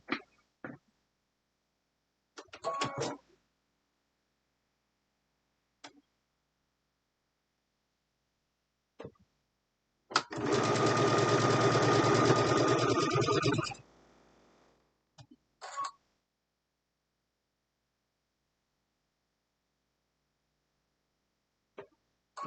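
A sewing machine sews a log cabin quilt block. A single loud burst of rapid stitching lasts about three seconds in an otherwise quiet room, with scattered faint clicks and handling noises around it.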